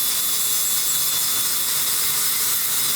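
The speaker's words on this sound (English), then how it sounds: "All right, Chris, moving to the grinder now. Got to round out the edges so it's nice and smooth" A grinder rounds and smooths the edges of a workpiece, making a loud, steady, close-up whir with a bright high hiss and no breaks.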